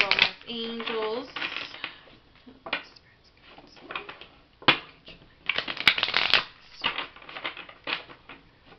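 Tarot-style oracle cards shuffled by hand at close range, a run of quick riffling bursts and soft slaps in uneven clusters, with brief pauses between handfuls.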